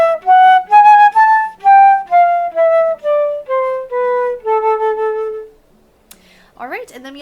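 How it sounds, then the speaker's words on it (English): A flute plays a slow descending scale of clear, sustained notes, each tongued separately, close and bright, before fading to near silence with a brief faint sound at the end. "So I'll play that for you so you can get it in your ear"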